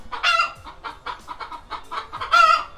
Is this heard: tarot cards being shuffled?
no